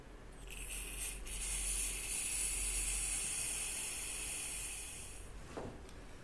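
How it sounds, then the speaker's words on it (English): Brake cleaner sprays in a steady hissing blast into the brake fluid reservoir of a Yamaha XJ900F motorcycle, one continuous close burst lasting about five seconds before cutting off. "I just want to get some brake cleaner into the reservoir to get it cleaned out."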